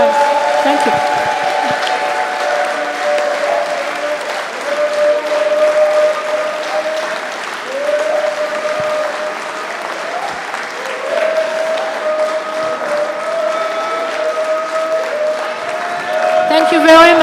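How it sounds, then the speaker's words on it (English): An audience claps in sustained applause at a talk on Vodou and the African liberation struggle, the clapping steady and fairly loud throughout, with cheering voices and a tonal ringing mixed into the crowd noise. "Can everybody give our mother big rounds of applause?"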